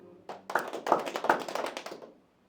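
About ten quick hand taps or claps in an irregular patter, close and fairly soft, ending abruptly.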